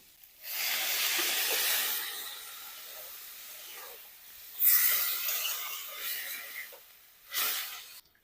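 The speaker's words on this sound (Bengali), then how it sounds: "এখন এর মধ্যে একটু জল দিয়ে দেবো" Water splashed into a hot pan of drumstick flowers and potato sets off a loud hissing steam burst that tapers off, then two more sharp sizzles as more water hits, close and without speech.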